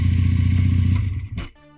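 A Regal Raptor Pilder 250 twin-cylinder motorcycle engine idles close by with a steady, throbbing low rumble, then cuts off abruptly near the end, leaving a faint clatter.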